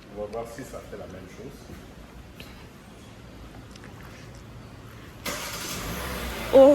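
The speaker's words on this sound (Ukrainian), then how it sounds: "звук бензинової машини клас" A petrol car engine runs at a low, steady idle, and it grows louder toward the end. A few people are heard talking in the background.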